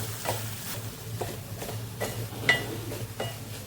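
Dried Bombay duck stirred into a masala in a pan, a spoon scraping and clinking in repeated strokes over a steady low hum with faint sizzling.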